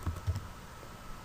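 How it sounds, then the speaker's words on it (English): A few quick keystrokes on a computer keyboard, soft close clicks in a brief burst, followed by quiet. "hit Enter on your keyboard"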